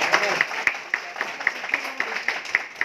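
Guests at an anniversary celebration honouring local journalists clap for a police inspector, a run of sharp, evenly spaced claps from a small group in a fairly steady rhythm.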